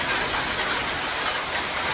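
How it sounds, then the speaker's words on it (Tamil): Heavy rain comes down in a loud, unbroken wash of hiss that stays even from start to finish, with no voices. "நல்லா மழை பெஞ்சுக்கிட்டு இருக்குது"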